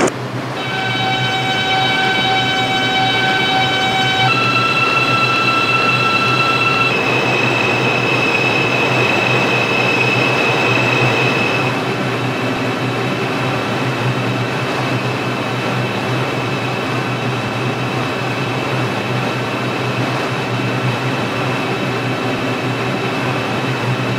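New York subway line 6 train running in the Subway Simulator video game, a continuous loud motor whine with rising electric tones and steady rail rumble that carries on throughout.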